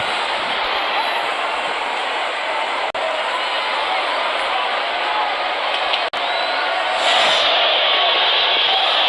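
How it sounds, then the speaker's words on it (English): Large cricket stadium crowd at an India vs West Indies match cheering in a steady, dense roar that swells louder near the end, with a couple of brief dropouts. "The crowd is enjoying every bit of this action."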